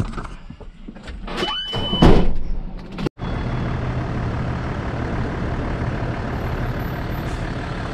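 A car in an apartment complex parking lot pulls out of its space. A door thud and rumble come first, then a steady engine drone holds under a broadband hiss.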